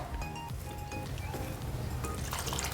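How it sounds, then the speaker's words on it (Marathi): Water poured from a cup into a bowl of methi chila batter made with curd and semolina, a steady close liquid splash with faint clinks, heard alone without talk. "आणि त्याच्यामध्ये एक कप पाणी घालूया आपण"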